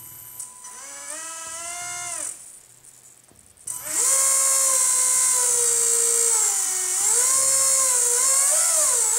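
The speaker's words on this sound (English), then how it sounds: "that's what it sounds like initialized" A Blade mCP X RC helicopter fitted with a brushless conversion initializes with rising and falling electronic motor tones, then a loud sustained high whine with wavering pitch.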